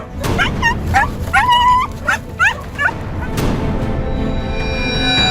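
Several dogs trapped inside sacks whimper and yelp in a quick run of high, wavering cries, then the sound gives way to a steady rushing noise.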